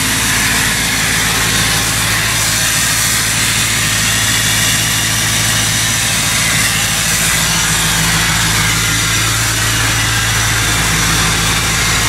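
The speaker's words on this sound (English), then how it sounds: "I'm gonna fire up the truck, clean it up. There's no exhaust," A loud, steady Ford F-250 pickup truck engine idles throughout with no exhaust fitted, a deep low rumble and a rough, unmuffled roar and no letup.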